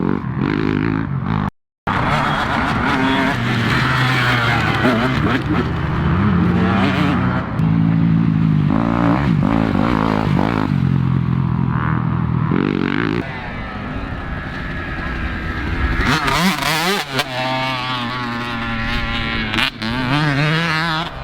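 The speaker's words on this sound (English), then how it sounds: "This bike's reacting a lot under me, but I'm just staying in position." A dirt bike descends a rough downhill trail. Its engine revs continuously and close by, with the pitch rising and falling and some rattling clatter from the rough ground.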